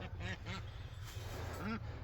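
Ducks in a farm pasture quack three times, two close together and one after a pause, fairly faint over a constant low rumble.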